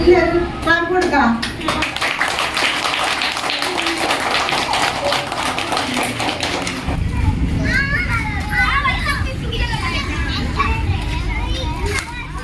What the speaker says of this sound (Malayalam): അപ്പൊ ബർത്ത്ഡേയുടെ ഈ പ്രവർത്തിക്ക് നമുക്ക് അത് നല്ലൊരു ക്ലാപ്പ് കൊടുക്കാം